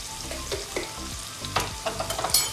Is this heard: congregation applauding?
no